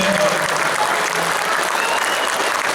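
A convention audience at a Power Rangers Q&A with guest David Yost in Corpus Christi claps loudly and steadily, with continuous dense applause throughout.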